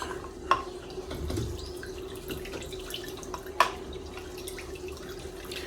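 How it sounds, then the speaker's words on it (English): Water is poured into chicken stock for homemade dog food, a steady low rush of liquid with a couple of sharp drip-like ticks, close by and with no talking. "I'm just going to put a little bit of water in there"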